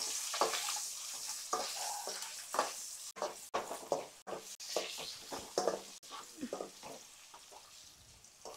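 Eggs deep-frying in oil for an egg masala curry, giving a close, steady sizzle with repeated stirring scrapes and a few sharp clicks of a utensil.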